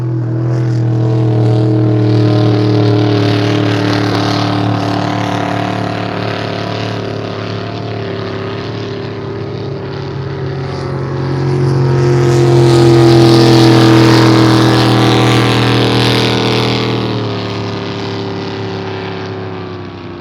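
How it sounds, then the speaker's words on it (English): Grand National race boat engine out on test runs before a race, a loud steady droning roar that swells and fades as the boat passes, sustained for the full stretch without talk. "Czar, your Grand National's out testing right now."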